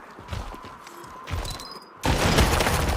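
A bomb explodes in the After the Fall VR game, a sudden loud blast and sustained rumbling roar that follows earlier smaller thuds and gunfire-like pops, close and without talk.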